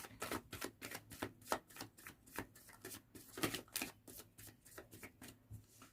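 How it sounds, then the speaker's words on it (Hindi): Tarot cards being shuffled by hand, a brisk run of crisp riffling flicks in a steady rhythm, close and fairly quiet, with no talking. "Last shuffle."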